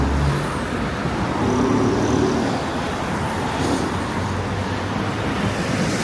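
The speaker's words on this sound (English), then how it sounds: "It's quite a nice city, just very busy with traffic." Busy city street traffic in Santos, Brazil forms a steady, close roar of passing cars and heavier vehicles that stays level throughout with no talk.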